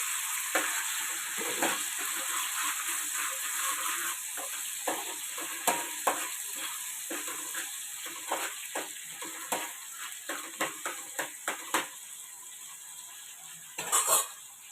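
Ginger paste and browned onions frying for gongura chicken make a soft, continuous sizzle broken by repeated spatula stirs and scrapes against the pan, fairly quiet and close, with no talk.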